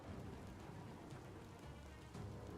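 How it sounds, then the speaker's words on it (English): Steady rain in the video game Biomutant, a dense, even patter with a faint low rumble underneath, heard alone without voices. "But it's raining."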